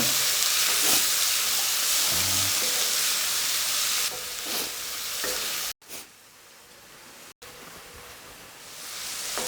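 Sliced snake gourd sautés in hot oil in a pan, a loud continuous sizzling hiss with scraping stirs, briefly interrupted by sharp cuts, then the frying carries on steadily.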